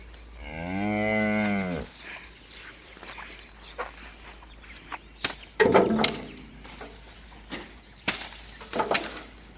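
Cattle on a farm in Samoa, one long loud close moo over the first two seconds, then scattered shuffling, thumps and brief clatter from the animals.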